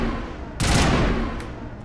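Video game gunfire from Mass Effect Legendary: a loud burst of shots and a boom erupts suddenly after a quieter stretch, sustained for about half a second, then trails off with fainter distant pops.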